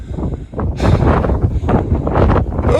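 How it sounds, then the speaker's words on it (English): Chilly wind gusts across an exposed Lake District hillside, a steady broadband rush buffeting the microphone with surges that swell and fade over a few seconds, heard alone without talk. "Oh, that wind is chilly."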